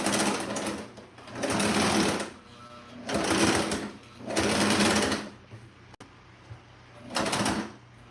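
A sewing machine stitching a bed pillow runs in four separate bursts of rapid, close whirring with quiet gaps between them, and a short fifth run comes near the end.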